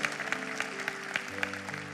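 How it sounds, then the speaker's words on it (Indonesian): Steady clapping from a church congregation, dense and continuous with a few sharper claps standing out, at moderate level. "Ada tepuk tangan bagi Tuhan"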